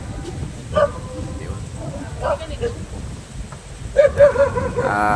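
A few short dog barks, one early and a cluster near the end, heard against outdoor wind and background voices.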